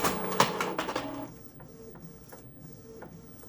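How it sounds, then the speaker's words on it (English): A printer printing on sticky glossy photo paper runs noisily with busy mechanical whirring and clicking for about a second, then settles into quieter intermittent ticks and soft feed sounds. "And there our image has printed out."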